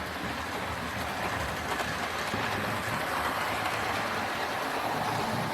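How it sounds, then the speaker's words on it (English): A steady, quiet rolling rumble with faint rhythmic clicking of a Hornby GWR 4-4-0 County Class model train running continuously along a track, with no voices. "My lovely Hornby Railroad County is back on the tracks again."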